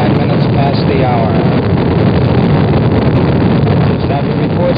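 Thunderous, unbroken roar of the Apollo 10 rocket engines at liftoff in 1969, loud and rough, with faint radio voices underneath.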